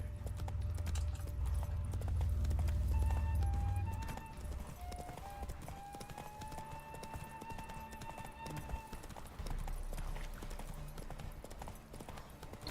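Roach, the horse in The Witcher 3, galloping: steady hoof clip-clops that run for most of the stretch. A heavy low rumble in the first few seconds and faint tonal game music sit behind them.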